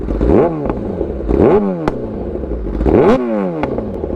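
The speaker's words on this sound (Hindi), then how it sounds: "एक बार आपको रेव मार के सुनाते हैं इसका साउंड।" A Kawasaki Ninja ZX-10R sport motorcycle engine is revved hard three times, each blip rising in pitch then dropping back, loud and close with a raspy exhaust.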